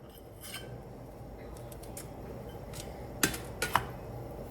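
Stainless steel kitchen utensils clink and knock quietly as they are handled, with a few faint taps and then three sharper metallic clinks close together near the end, and no voices.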